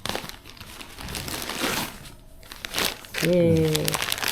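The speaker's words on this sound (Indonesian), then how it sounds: "Ini mau unboxing." Crinkling plastic packaging as a product bought at a book fair is unboxed, rustling and crumpling close by under a person's talk.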